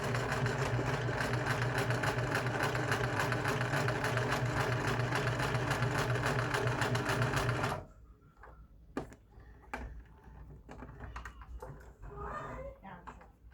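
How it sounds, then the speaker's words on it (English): A sewing machine stitches a seam through fabric from a shirt and shorts being remade into a dress, a loud, steady mechanical whir for about eight seconds that stops abruptly, followed by quieter scattered handling clicks. "I'm going to sew this up right here to give it extra security"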